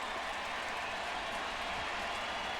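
A baseball stadium crowd at a Cubs versus Cardinals game in St. Louis murmurs and cheers as a steady, distant wash of noise, with no distinct voices standing out.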